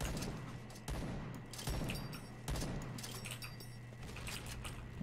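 Faint, muffled bursts of gunfire and blasts from a clan war shooting video game, arriving in a rough irregular rhythm under a steady low hum, with no clear talk.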